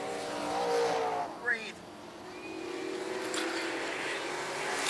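Race cars at Charlotte County Speedway slide sideways through a turn, engines roaring and fading with a brief sharp squeal, while an announcer talks over the track noise.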